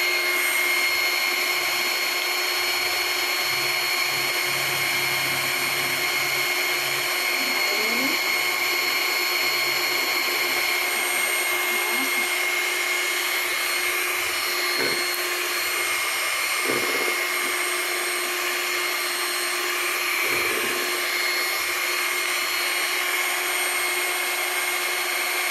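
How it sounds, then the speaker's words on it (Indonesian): An electric mixer whips Swiss buttercream, a continuous loud high whirring motor drone with a few faint bumps against the bowl. "Mixer terus"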